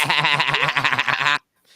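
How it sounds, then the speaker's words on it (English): A goat bleats in a loud, wavering, quavering call that lasts over a second, close and alone, then cuts off into near silence. "then the noises they be making. it's a goat."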